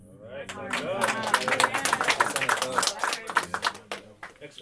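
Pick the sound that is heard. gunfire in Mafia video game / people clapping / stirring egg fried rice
people clapping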